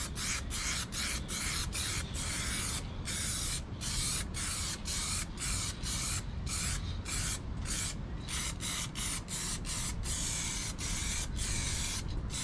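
Aerosol can of quick-drying Duramax black paint sprayed onto white steel wheels for a 4Runner, steady hissing bursts with brief pauses between passes, close and continuous, no talking.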